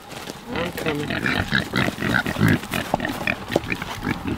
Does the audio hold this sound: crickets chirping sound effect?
no